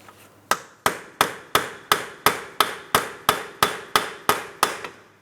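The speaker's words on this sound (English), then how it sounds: "I'm using a hammer and punch directly in the center of the axle shaft" Steady metal hammer strikes on a punch against the center of a front CV axle shaft on a 2004-2008 Pontiac Grand Prix 3.8L V6 ring out about two per second, a dozen sharp taps in a row, close and clear, no talking.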